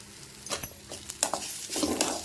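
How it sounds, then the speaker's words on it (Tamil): Curry leaves with tamarind and amla sautéing in a pan, a soft sizzle under a few clinks and scrapes of a spoon stirring against the metal. "ஒரு பெரிய நெல்லிக்காய் சூடு புளி அதையும் போட்டு வதக்கிக்கலாம்"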